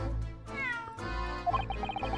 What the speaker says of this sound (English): That was a cheeky little meow guy.